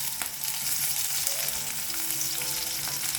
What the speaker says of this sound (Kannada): ಸ್ವಲ್ಪ ಹಿಂಗು, ಅದ್ರ ಜೊತೆ ಸ್ವಲ್ಪ ಕರಿಬೇವನ್ನ ಹಾಕೊಳ್ಳೋಣ. ಇದನ್ನೊಂದು ಸ್ವಲ್ಪ ಹಸಿ ವಾಸನೆ ಹೋಗೋ ತನಕ ಹುರ್ಕೊಳ್ಳೋಣ.